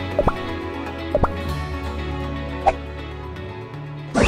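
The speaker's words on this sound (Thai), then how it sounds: "สถานที่ผมจะเพาะวันนี้นะครับ ก็จะเป็น เป็นบ่อม่านน้ำตกหน้าบ้านผมนะ" Water dripping and plopping at a front-yard waterfall curtain pond, with a few distinct drops landing close by over a steady background trickle, ending in a brief louder splash.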